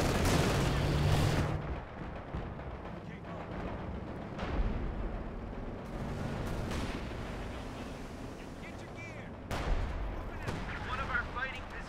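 Artillery counter-barrage in a video game: booming, rumbling shell impacts and blasts roll in a dense, continuous wash, with sharper thumps punctuating it, while people talk faintly over the gameplay.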